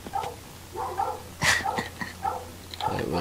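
A dog barks repeatedly in a video game, with several close, evenly spaced barks and yips over about three seconds and no talking.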